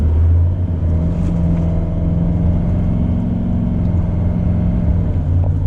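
A 2018 Chevy Silverado 2500 with a Duramax diesel pulls away from a stop, heard from inside as a loud, steady low engine rumble with a rising drone as it accelerates, and no talking.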